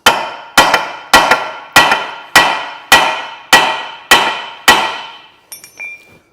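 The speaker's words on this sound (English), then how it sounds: "what we're trying to do is get the old rivets out." Nine evenly spaced, ringing hammer blows strike metal while driving old rivets out of a Volvo V50 body, each hit loud and close with a decaying metallic ring, followed by a few lighter clinks at the end.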